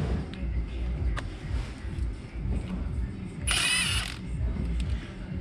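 A socket wrench ratchets steadily on a Kubota mower starter, a dense mechanical clicking close by, with a brief brighter burst of metallic noise midway.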